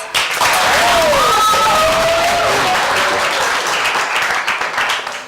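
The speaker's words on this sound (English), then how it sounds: "Let's give him a nice round of applause." An audience breaks into a full round of applause for a school superintendent, loud and sustained before tapering off, with faint voices and tonal sounds drifting over the clapping.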